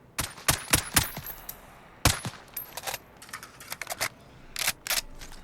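Single shots from a FAMAS G2 rifle in Call of Duty Modern Warfare, fired one at a time as a sharp, uneven series of about a dozen loud cracks with short gaps, no talking.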